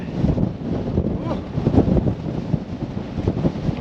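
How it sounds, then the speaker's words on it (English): Wind gusting across the summit of Coniston Old Man in the English Lake District, a steady loud roar buffeting the microphone with rumbling surges throughout, and a voice faintly mixed in. "wind has picked up."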